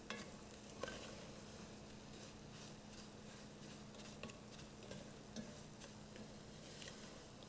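Semolina toasts in a pan for a vegan Greek semolina pudding cake: a faint, steady sizzle with soft scraping stirs recurring throughout, close and alone.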